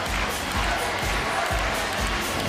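A goalball arena crowd at the Paris 2024 Paralympics roars and cheers steadily and loudly, with dull low thumps pulsing underneath the dense wash of voices.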